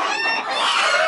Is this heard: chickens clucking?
yes